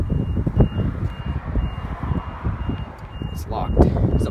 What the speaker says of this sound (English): There's an alarm going off over here.